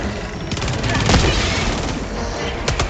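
Rapid automatic gunfire in Helldivers 2, a loud fast stream of shots that starts abruptly and rattles on over a rumbling background, with voices mixed in.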